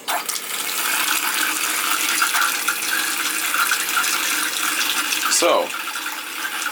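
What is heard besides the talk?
water running from hot and cold taps in skoolie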